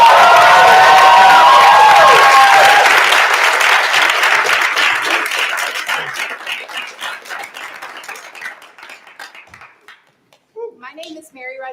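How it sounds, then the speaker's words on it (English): An audience applauds after an evening performance on a snowy night. Loud, full clapping with brief cheers starts the stretch, then thins into scattered claps that trail off almost to silence before a voice begins. "Can we give them one more round of applause?"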